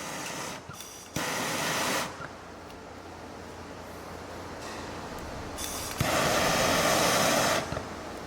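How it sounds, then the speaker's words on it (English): A propane torch hisses steadily while heating a copper pipe fitting for soldering, its roar swelling louder in two long stretches and dropping to a softer hiss in between. "So I'm going to turn my torch back on, let it run, click the lock, go and start heating up the top fitting"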